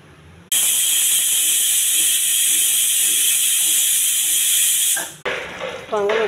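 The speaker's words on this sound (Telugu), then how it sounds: "ఒక 4-5 విజిల్స్ రానివ్వాలి" A pressure cooker cooking pesarapappu pongal lets out one loud, sustained steam whistle lasting several seconds, then cuts off abruptly as softer clattering and a short voice follow.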